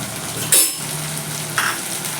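Potatoes and onions fry in a pan with a paste of poppy seeds and green chillies, making a loud, constant sizzle broken by two sharp stirring scrapes.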